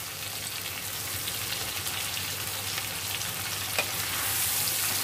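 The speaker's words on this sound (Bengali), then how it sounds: "চিংড়ি মাছটা একটু ভাজা ভাজা হওয়ার পরে একটা মিডিয়াম সাইজের আলু দিয়ে দিলাম" Shrimp and a medium-sized potato fry in a pan, giving a steady, close sizzle with a crackling hiss that builds slightly toward the end, with no talking.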